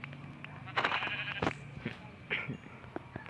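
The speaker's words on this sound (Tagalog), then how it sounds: "Meron pa ring tupa dito." Sheep in the video game Minecraft bleat a few times, with two or three short, fairly close calls heard over a soft game background and no talking.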